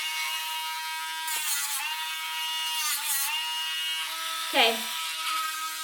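A Dremel rotary tool grinding a dog's nails gives a steady high whine that runs throughout, dipping slightly in pitch as it bears on the nail, with a brief spoken word near the end.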